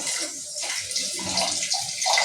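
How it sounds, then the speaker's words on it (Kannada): Water poured into a mixie jar holding leftover ground masala, a steady close splashing rush for the whole stretch with no talk. "ಈ ಮಿಕ್ಸಿ ಜಾರಲ್ಲಿರೋ ಮಸಾಲೆ ಎಲ್ಲ ಒಂಚೂರು ಅದಕ್ಕೆ ಹೋಗಲಿ, ಸ್ವಲ್ಪ ನೀರು ಹಾಕ್ಕೊತೀನಿ."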